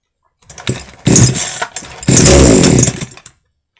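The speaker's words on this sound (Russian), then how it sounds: "Пила чихнула, заглохла." A chainsaw's small two-stroke engine catches in short bursts, revving roughly twice before cutting out into silence.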